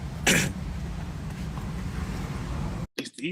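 A single harsh cough bursts out near the start over a steady background rumble, followed later by a brief voice.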